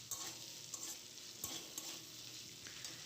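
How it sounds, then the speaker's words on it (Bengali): Potatoes and ginger paste being stirred in a frying pan for a cabbage and prawn dish, with a steady sizzle and a few sharp scrapes of the spatula against the pan. No one speaks. "আদা বাটা দিয়ে ভালো করে আমি নেড়ে চেড়ে নিলাম।"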